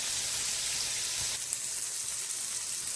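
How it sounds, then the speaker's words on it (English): Shrimp frying in a pan, a steady, bright sizzle and crackle that holds at an even level throughout, close and with no voices over it. "we have flipped our shrimp to the other side, and they still need a little more cooking"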